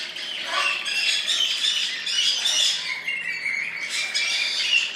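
A cinnamon Spanish timbrado canary sings in a bird shop, its busy, high warbling trills and chirps running steadily throughout, with other caged birds faintly around it.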